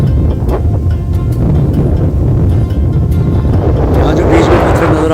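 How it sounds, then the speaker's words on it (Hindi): Tide water rushes toward the shore at Chessel Bay in Southampton, UK, a loud, continuous churning roar heavy with wind buffeting on the microphone, with scattered splashes and surges throughout. "पानी बड़ी तेज़ी से किनारे की तरफ आ रहा है।"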